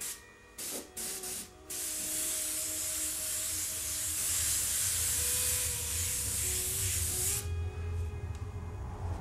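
An airbrush loaded with FW ink sprays a light green covering over paper, a steady close hiss of air running continuously after a few brief opening bursts, with a faint compressor hum beneath.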